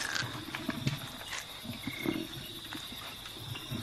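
A lioness up in a tree over an abandoned carcass gives low, rough growls in short bursts amid a wild outdoor ambience with insects, fairly close.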